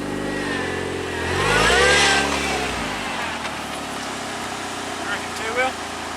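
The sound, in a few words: turbo Suzuki Jimny engine revving on beach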